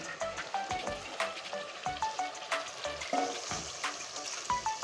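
Fried chicken pieces tipped into hot spice masala in a pan for a thin potato-and-chicken curry, giving a steady crackling sizzle with sharp pops and spits, plus occasional light scraping as the mixture settles.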